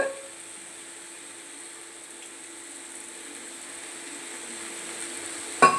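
Pumpkin and vegetables for pumpkin kootu sizzle softly in a pan, a steady faint hiss that builds slightly, ending with a brief metallic clink.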